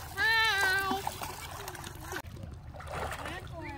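A young girl splashing while swimming in open water near a boat, with steady watery sloshing and splatter throughout; people talk and a voice is heard over the water.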